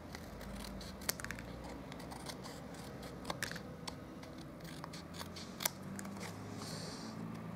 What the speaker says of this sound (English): I'm going to trim off all those excess pieces off that part